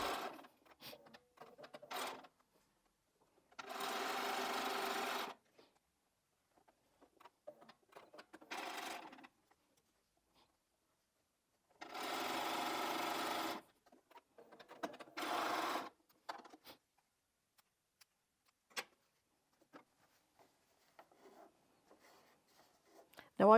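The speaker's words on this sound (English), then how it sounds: "they get carried to the sewing machine as they need to be sewn" A sewing machine stitches quilt fabric pieces for a Christmas tree skirt in several short whirring runs with quiet pauses between them, alongside soft handling clicks and rustles.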